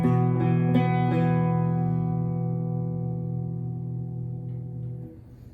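Electric guitar plays the main riff of a song: a few picked notes over a droning, distorted low chord that rings out and slowly fades, alone without talking.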